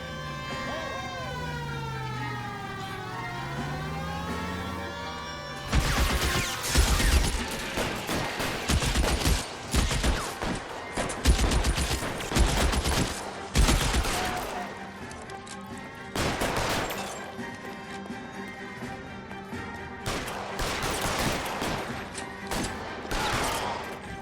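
Bursts of gunfire in the crime video game L.A. Noire come in rapid clusters over a wailing police siren that rises and falls, with loud cracks standing out sharply from the siren in the first seconds.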